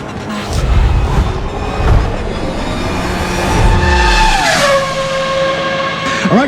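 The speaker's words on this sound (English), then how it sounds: "We're driving the new GR86 in iRacing for the very first time." A Toyota GR86 race car engine in the iRacing sim roars loudly and steadily, then the pitch sweeps down as it lifts off and revs again.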